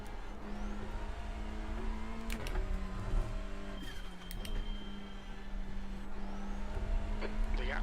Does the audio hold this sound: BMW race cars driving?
yes